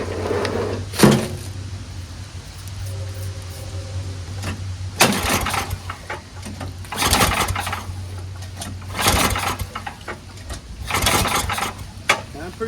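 Tecumseh Snow King 8hp engine on a dual-stage MTD 824 Yard Machines snowblower being pull-started, several loud rasping pulls in bursts over a steady low hum, the engine failing to catch.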